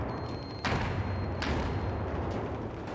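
Gunfire in a 32 vs 32 multiplayer video game match on the Locker map: sharp, loud shots and bursts over a constant roar of battle noise, with distant rapid fire throughout.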